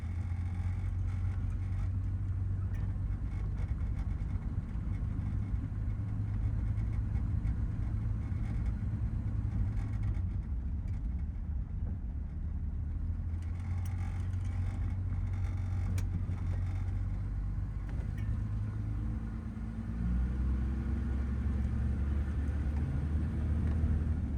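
A two-speed vehicle drives steadily with a continuous low engine rumble and a loose-sounding belt adding faint creaks and mechanical whir, loud and close throughout with no talk.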